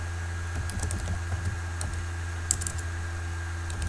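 Soft, scattered clicks of a computer keyboard and mouse at a desk, a few quick taps and clusters over a low steady hum, close and quiet with no talking.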